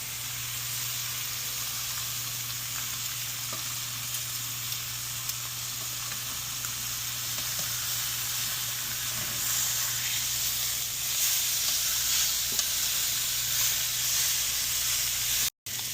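Steak sizzles in an Our Place Titanium Always Pan Pro nonstick pan, a steady, bright hiss with faint crackles that holds evenly throughout before stopping abruptly at the very end.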